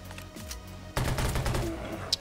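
Gunfire in the Garena Undawn video game, a dense burst of rapid shots kicking in after a quieter moment and continuing to the end.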